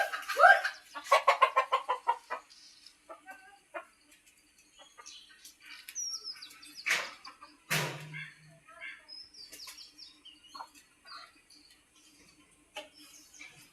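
A local desi hen and a Brahma cross hen cluck nearby: a quick series of loud clucks at first, then scattered softer clucks and calls, with faint voices in the background.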